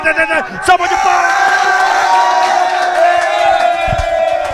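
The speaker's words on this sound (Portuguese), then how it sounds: "Salva de palmas!" A crowd in a bar roars and cheers loudly and steadily after a brief burst of shouting, a dense, continuous wall of voices filling the room.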